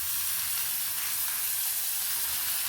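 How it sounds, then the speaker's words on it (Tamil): Washed ridge gourd peel sautéing in a pan, giving a steady, close sizzle and frying hiss that runs unbroken and fairly loud with no voices. "பீக்கங்காய் தோல் அதாவது வாஷ் பண்ணி வச்சுருக்கிறது இதையும் நம்ம வந்து சேர்த்து ஒரு 5 மினிட்ஸ் வதக்கிக்கலாம்."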